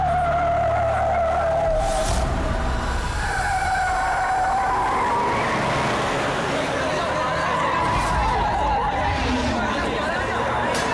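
A car skids with a loud, sustained tire squeal that wavers across its whole length, backed by steady dense noise that fits a crash into a tree, with no voices.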